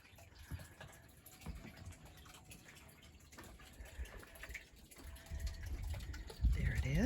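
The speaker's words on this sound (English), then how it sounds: "You can hear the pond bubbling away." A garden pond with goldfish bubbles and trickles steadily outdoors, soft and continuous, growing a little louder toward the end, with someone talking over it.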